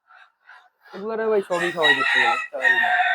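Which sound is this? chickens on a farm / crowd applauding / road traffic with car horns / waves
chickens on a farm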